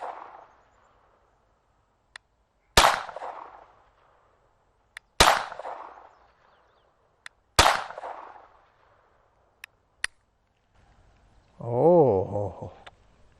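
A Sig P322 pistol fires three sharp, loud shots spaced a few seconds apart, each with a short decaying echo, with small clicks between and a brief voice at the end.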